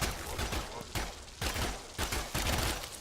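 Burst after burst of rapid gunfire shooting at a plate in the video game Warframe, four loud clustered volleys spaced about half a second apart, with a voice faintly underneath.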